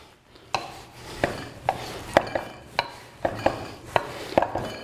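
A knife chops through fresh, soft noodle dough on a board, first cutting it into big strips and then across them. The cuts are close, crisp knocks at an irregular pace, about ten in all, with no talking.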